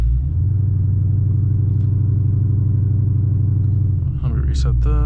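A Hellephant-engined Chrysler 300 sits loud and close, its heavy engine holding a deep, steady rumble for about four seconds, then surging into a raw launch with rising revs and a sharp burst of higher-pitched roar at the end.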